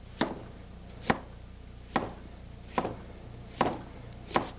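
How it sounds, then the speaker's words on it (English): Knife chopping the other half of an onion on a cutting board while cooking salmon over pasta: six sharp, separate chops at an unhurried, slightly uneven pace, close and clear with nothing else around them. "And let's chop up the other half of this onion."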